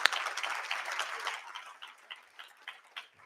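Applause from a conference audience at a wine varietal event, starting as a dense burst of many hands clapping, then thinning into scattered individual claps as it fades, heard from a moderate distance.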